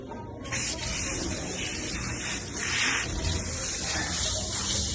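Steady hissing spray of water at a self-service dog wash runs for several seconds, broad and fairly loud, surging slightly midway like a hose nozzle being moved.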